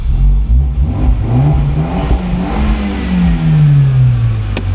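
A 2018 Fiat 124 Spider with the 1.4L Multi-Air engine revs up close and loud, the pitch climbing and then easing down in a smooth, sustained mid-range engine drone.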